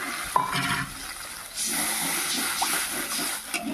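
Water poured into a pan of frying spice paste for a pabda fish curry, with a splashing hiss followed by a steady bubbling sizzle and a few stirring clinks.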